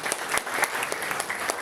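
A crowd at a college golden jubilee night breaks into lively applause, with bright, irregular claps that stay fairly steady.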